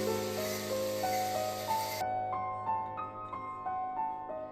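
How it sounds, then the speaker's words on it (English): A wire wheel scrubs decades-old grime off an old Columbian vise, a harsh, loud hiss for about two seconds that cuts off abruptly while a steady stepping tonal melody continues underneath. "A bit of wire wheel work to get the grime from 60 years off of this thing."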